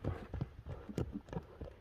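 Hooves of a black racehorse clip-clop at a Kyrgyz ulak horse event, a quick uneven rhythm of close knocks with faint background voices.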